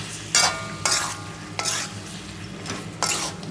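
Chicken pieces coated in red chili powder frying in a pan on a medium flame, a steady sizzle broken by four or five sharp scraping stirs of a spoon against the pan.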